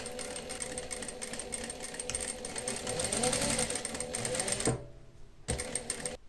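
A sewing machine stitches a leather double welt pocket to its lining, running in a continuous close rattle for nearly five seconds. It stops, then gives a short final burst.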